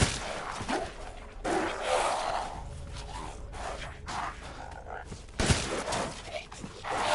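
Shotgun blasts and combat noise from the video game Resident Evil Village: several heavy booming bursts with crashing impacts and creature growls, loud and dense throughout, with someone talking over the action.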